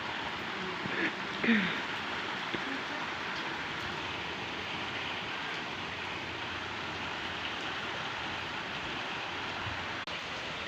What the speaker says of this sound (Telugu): చూడండి ఫుల్ వర్షం వస్తుంది